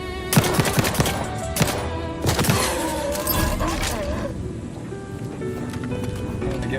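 Video game gunfire from The Outer Worlds 2 pops in quick rapid bursts, several sharp shots early then fading into a steady background hum, with a voice speaking over it.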